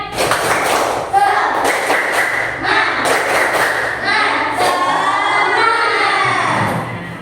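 A classroom group performs a rhythmic clapping cheer routine in patterned bursts of claps, with voices chanting and talking over and between them.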